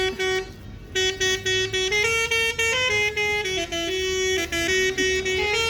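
Several loud tractor horns honk in overlapping bursts at an agricultural fair, sustained blasts with a harmonic, brassy tone, one sliding in pitch as others answer, continuous throughout.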